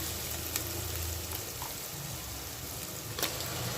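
Spices and chili powder sauté in a pan for mutton curry, a soft, steady sizzle with faint crackles and an occasional stir or clink, low in level and continuous.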